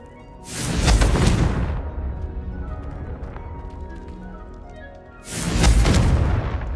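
Two heavy fiery blasts from the Confringo spell in Hogwarts Legacy, each a loud booming explosion decaying over about a second, separated by a quieter stretch of rumbling ambience.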